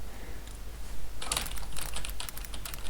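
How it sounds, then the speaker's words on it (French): Opera GX browser keystroke sound effects click as a quick burst of sharp, mechanical-keyboard-like taps in an irregular typing rhythm, close and crisp over faint background hiss. "Ah par contre il y a un bruit de touche, j'avais pas remarqué."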